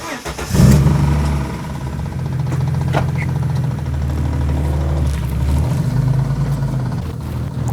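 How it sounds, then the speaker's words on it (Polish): A BMW E36 engine runs on a dynamometer, a loud steady drone with a low rattling, clattering undertone, rising sharply at the start then holding near-constant with slight swells throughout. "Co to może być za terkotanie?"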